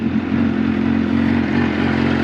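A Suzuki GSX-R 750 motorcycle engine running close by, a loud, steady low rumble held at raised RPM for a couple of seconds, with no voices over it.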